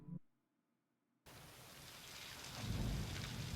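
Video game rain and thunder: after a short silent gap, steady rain noise suddenly swells in and keeps building with a low rumbling roll toward the end, no voices.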